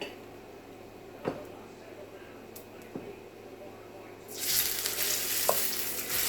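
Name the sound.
stir-frying rice with Spam in a pan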